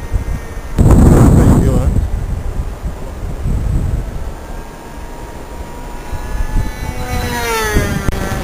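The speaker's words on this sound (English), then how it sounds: "Yeah, no, that's the glow engine" A model aircraft glow engine under a large cowling whines in the distance outdoors, its thin rising tone climbing in pitch near the end, over heavy wind buffeting on the microphone, with a louder rumbling burst early on.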